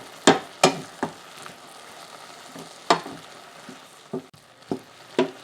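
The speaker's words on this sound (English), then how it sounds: "We'll stir that around a bit." Cactus liquid sizzles softly in a pan while a utensil stirs it, making a faint steady fry punctuated by sharp scraping and clacking strokes at an uneven rhythm.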